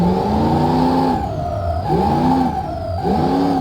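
A car engine in BeamNG.Drive revving hard while drifting, loud and close, its pitch rising and falling in repeated sweeps as the throttle is worked, with no speech over it.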